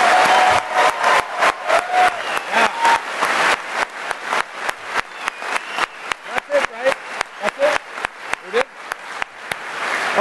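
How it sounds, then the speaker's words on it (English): Conference crowd at the DEF CON 22 closing ceremonies applauding the Rio hotel, loud dense clapping with sharp rhythmic claps cutting through, sustained for about ten seconds amid scattered voices. "let's give a big round of applause for the Rio"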